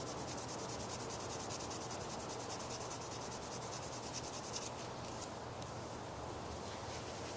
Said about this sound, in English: as you start to sand, I'm using 600 grit here.